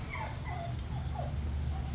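Dogs whimper and yip in short, high, drawn-out whines over a steady low hum, fairly close, with no clear barking.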